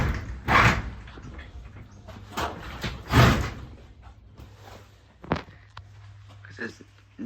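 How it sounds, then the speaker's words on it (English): A shed door is pushed shut with a few loud thuds and bumps amid footsteps and handling noise, while a steady low machinery hum from a ceiling fan with bad bearings runs underneath. "But I'm also going to try and shut the shed door."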